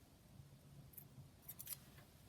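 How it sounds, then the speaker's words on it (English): Scissors trimming paper flowers for a crafting page, a few quiet snips spread across the moment, ending in one sharper, louder cut close by. "I've got some pretty flowers here, so I'll just trim those off."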